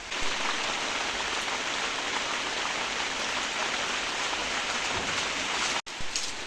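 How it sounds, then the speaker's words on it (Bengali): Rain pours down steadily at a goat farm, a dense, even hiss of drops on surfaces that stays constant and loud throughout, with a brief dropout near the end. "দেখেন বৃষ্টি শুরু হয়ে গেল"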